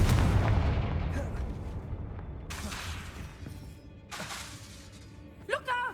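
Confringo fire spell blasts from the Hogwarts Legacy video game: a loud booming explosion opens the clip and rumbles away, followed by further bursts and combat effects while a voice calls out a warning.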